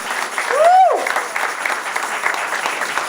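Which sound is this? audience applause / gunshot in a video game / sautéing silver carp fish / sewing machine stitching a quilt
audience applause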